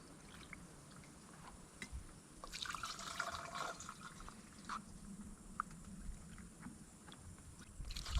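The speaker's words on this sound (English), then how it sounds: "So that way I know exactly how many gallons of water to put in here." Water poured into a garden sprayer tank a gallon at a time for treating mesquite trees and weeds, a soft gurgling, splashing fill with drips, close by and steady, with a stronger surge of pouring midway.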